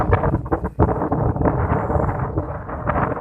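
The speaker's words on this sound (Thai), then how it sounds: "วันนี้ลมแรงมากนะครับ" Strong wind at a kite test rumbles and buffets the microphone continuously, a dense low roar with no voices.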